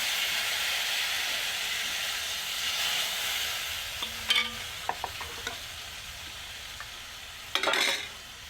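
Dal (lentils) poured into a hot pan sizzle with a steady frying hiss, while scattered scrapes and clinks of stirring come through close by.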